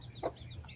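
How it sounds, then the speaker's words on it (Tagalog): Joloano breed chickens on a farm, a single short cluck over a faint background of soft bird chirps. "dahil meron po ditong mga manok dito sa gilid"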